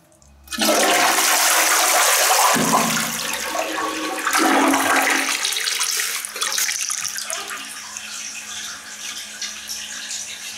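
A household toilet flushes loudly after a near-silent start, then water rushes as the tank refills, settling into a steady refill hiss; no talking.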